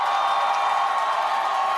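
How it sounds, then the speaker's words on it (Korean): A rally crowd on a city hall plaza in Pohang cheers and applauds to welcome a presidential candidate, a steady dense roar of voices and clapping that holds loud and even throughout. "여러분의 뜨거운 박수와 함성으로 맞이해 주십시오"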